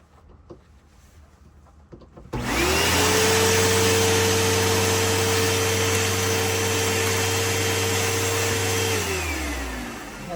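A Hoover Elite Rewind vacuum cleaner, overfilled and probably overheated, with very low suction and spitting dust, switches on after a quiet moment and runs with a loud, steady motor whine and airflow roar that dips slightly at the very end.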